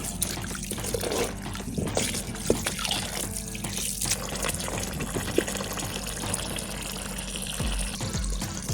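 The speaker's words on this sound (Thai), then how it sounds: "ล้างจนกว่ามันจะหมดยาง" Glutinous rice being washed by hand in water: continuous close sloshing and trickling, with grains swirled and rubbed in a bowl, and no voices.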